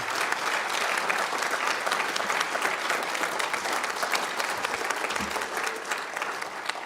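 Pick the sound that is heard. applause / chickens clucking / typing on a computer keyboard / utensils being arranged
applause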